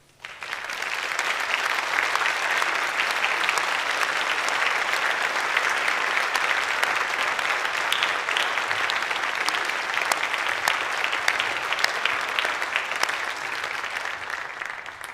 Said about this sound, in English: join me in applauding our outstanding staff